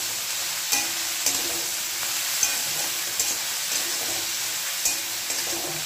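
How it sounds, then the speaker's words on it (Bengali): Onions frying in oil in a pan for a tangra fish chachchori, a steady sizzle with scattered sharp clicks of a spatula against the pan, close and alone. "আর এটাকে ভালো করে আমি কিন্তু ভেজে নেব পেঁয়াজটাকে"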